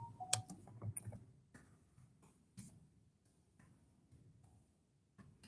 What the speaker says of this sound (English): Typing it in here.